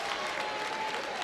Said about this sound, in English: The fans are standing to applaud Bo.